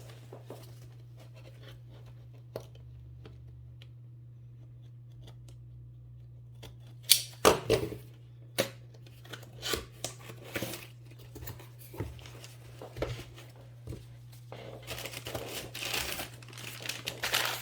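A parcel of Yu-Gi-Oh cards is torn open by hand: a quiet start gives way to bursts of crinkling plastic and paper, snips and rustling handling noises, close and irregular, with no speech.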